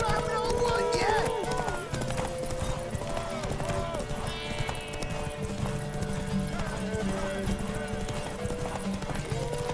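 Horse hooves clip-clopping in the open world of Witcher 3, a rider urging on a mare, steady hoofbeats with an occasional whinny under game music and spoken dialogue.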